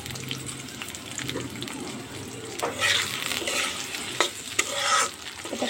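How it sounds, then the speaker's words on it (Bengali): Chopped onion and chili frying in hot oil in a wok, a steady close sizzle with scraping stirring sounds that grow busier midway. "কড়াইয়ের মধ্যে দিয়ে দিয়েছি তেল, তার মধ্যে পেঁয়াজ কুচি আর মরিচ কুচিগুলো দিয়ে দেব"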